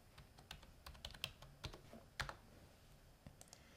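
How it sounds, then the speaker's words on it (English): A word is typed on a computer keyboard while editing an Excel spreadsheet, a quiet, close run of irregular key clicks with no talking. "I can double click on it and type in the word central."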